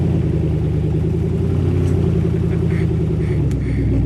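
Truck engine straining to climb a steep hill, pulling a heavy front end with the locker engaged; a loud, steady low rumble with labored mid-range droning throughout and faint clunks on top.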